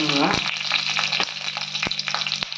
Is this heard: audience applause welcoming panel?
no